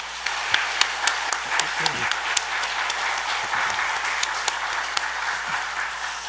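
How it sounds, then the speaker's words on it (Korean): A church congregation gathered for a combined all-ages worship service gives a round of applause offered to God, a steady wash of clapping with sharper individual claps standing out and faint voices underneath. "하나님께 영광의 박수 한번 올리겠습니다"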